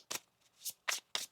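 Tarot cards are shuffled in four quick bursts, each a crisp riffling flutter close up, separated by short pauses.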